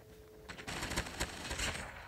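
An MSMC submachine gun in Call of Duty Mobile fires a dense, sustained automatic burst of loud, overlapping shots, with nobody talking.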